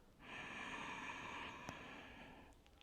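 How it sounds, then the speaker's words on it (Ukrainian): A deep, slow breath is drawn in through the nose during gentle yoga breathing practice, a single close, airy inhale lasting about two seconds with a faint click partway through. "Глибокий повільний вдих."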